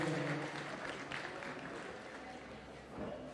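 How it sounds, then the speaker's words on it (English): Audience applause at a boxing press conference as a fighter walks to the stage, a soft, distant wash of clapping mixed with room noise, fading slightly and rising again near the end. "Round of applause for Faith, please."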